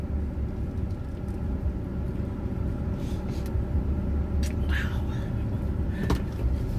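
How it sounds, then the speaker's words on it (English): A car drives at a steady pace with a continuous low rumble of engine and road noise, a couple of faint clicks and a little talking inside. "I'm going to drive a little further away than just home"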